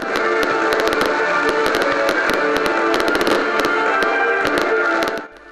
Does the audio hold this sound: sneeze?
no